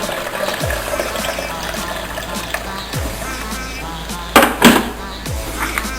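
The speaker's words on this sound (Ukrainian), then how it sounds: "Ще доливаємо до літри води." Water pours in a steady stream, splashing into a blender jar, filling it to about a litre, with a few louder gurgling bursts near the end; close and fairly loud.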